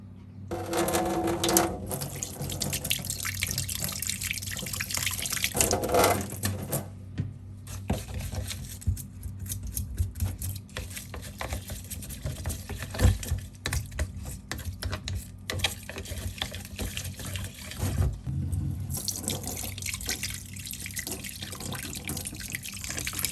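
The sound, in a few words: tap water washing mixer jar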